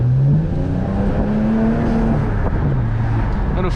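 A turbocharged car engine revs loud and close, holding a steady droning note with slight pitch swings, a fluttering muffler and a brief turbo hiss.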